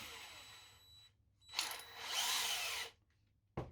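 A power drill fitted with a Makita countersink bit whirs in short bursts, a brief spin followed by a longer, louder run, then a quick final blip, with quiet pauses between.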